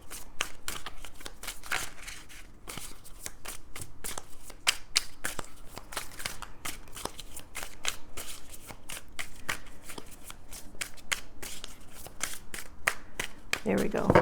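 Tarot cards being shuffled: a dense, continuous run of quick riffling flicks and soft slaps, steady and close, with a few louder snaps near the end.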